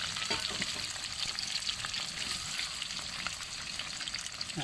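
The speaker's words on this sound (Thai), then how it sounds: "เนี่ยขั้นตอนนี้เราก็ทอดกุ้งไป" Shrimp fry in hot oil with a steady, dense crackling sizzle that stays even and fairly close throughout, with no voices.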